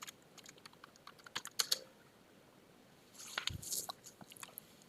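A computer keyboard being typed on for a Linux terminal command, heard as scattered quiet key clicks in two short bursts with a pause between, close and faint.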